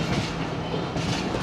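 From aboard a passenger train in Pakistan, a steady rumble and rattle of wheels on track, loud and continuous with faint rhythmic clacking.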